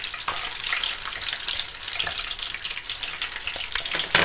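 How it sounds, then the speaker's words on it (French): Meat pastels fry in hot oil with a dense, steady crackling sizzle, loud and close, broken by a few sharper pops and spits and no voices. "je vais le plonger dans l'huile, hein, pas le choix"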